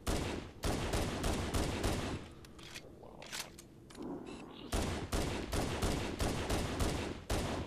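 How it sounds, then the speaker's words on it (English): Rapid volleys of gunfire in the Halo Anniversary game on Legendary, loud repeated shots in dense bursts with a brief quieter gap in the middle before the firing resumes. "So you just want to snipe these guys."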